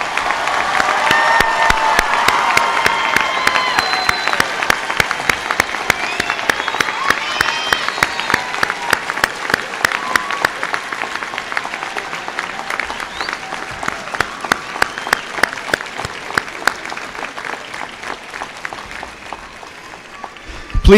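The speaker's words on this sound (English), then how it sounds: "please stand and turn and face the guests for one last round of applause from the audience gathered in honor of your" Sustained, loud audience applause with some cheering at the Brazosport College 2022 commencement, a dense wash of clapping from a large crowd lasting about twenty seconds and thinning slightly toward the end.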